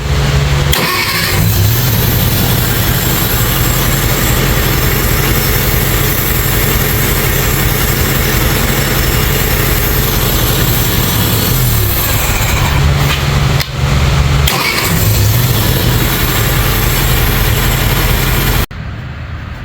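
A 1974 International Cub tractor with a suspect fuel line is started with the key, cranking repeatedly with loud, close engine noise that stalls and restarts before cutting off near the end.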